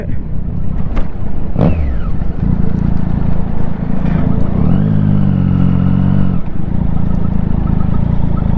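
A Triumph Street Triple 675 motorcycle on the move, its engine droning loudly under heavy wind roar. A rising rev and a sustained higher exhaust note come mid-ride before it settles back.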